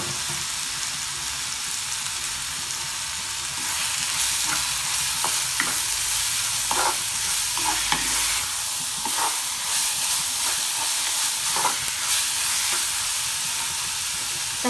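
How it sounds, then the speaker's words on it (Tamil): Medium-sized tomatoes and onions sautéing in a pan for a poricha kuzhambu make a continuous close sizzle and hiss, with scattered scraping and clicking of a stirring spoon. "தக்காளி நல்லா மசிகிற வரையும் இதை வதக்கி எடுக்கும்."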